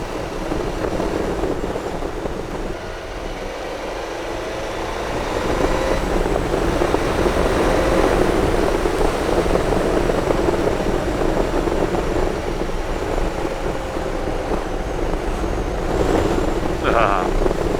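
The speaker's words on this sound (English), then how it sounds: "Enjoying a nice, relaxing ride on a sunny Sunday. And the BMW K1200RS, which is back." A BMW K1200RS motorcycle rides along on a sunny Sunday, giving a continuous engine drone mixed with steady wind rush. The drone swells slightly louder after the first few seconds.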